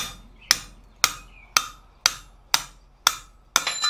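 A hammer drives a drift through hot forged steel while a dinner bell clanger is being forged, eight evenly spaced sharp metallic blows about half a second apart, close and clear with no talk.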